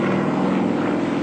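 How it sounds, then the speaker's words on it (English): A big propeller plane flying aerobatics drones loudly and steadily overhead, a constant buzzing engine roar with no pauses and no voices. "You can't see how this big aeroplane manages to turn the corner so well."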